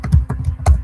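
Fingers typing on a computer keyboard, about half a dozen close, crisp key taps in quick, slightly uneven rhythm.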